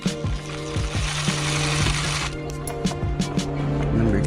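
Power drill driving screws while installing an AeroForce gauge in a 2008 Chevrolet TrailBlazer SS, a close buzzing motor whine in short bursts with clicks and pauses between them.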